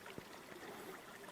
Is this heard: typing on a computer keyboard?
no